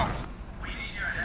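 Cat meow from the UberSoldier video game, a single drawn-out, slightly strained meow heard under game sound and some background voice.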